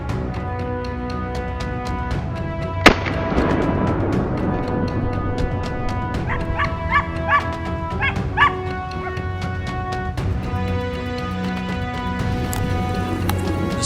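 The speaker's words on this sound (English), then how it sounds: "The sound of hunting dogs echoed from the other side of the mountain slope" Hunting dogs bark and yip repeatedly during a wild boar hunt on a mountain slope, with a sharp thump early on and clusters of excited yelps and whimpers at moderate distance, no speech.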